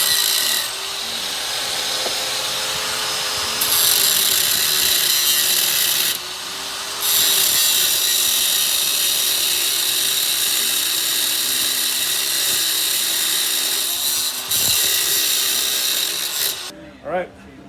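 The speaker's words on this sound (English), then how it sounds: "We're getting ready to cut the bridge and the nut" Saw or file cutting a nut for a two-string cigar box guitar, with continuous rasping strokes at close range interrupted by brief pauses, loud and steady.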